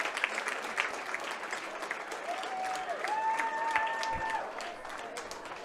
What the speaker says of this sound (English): And now they come over to take the applause from their supporters behind the fence,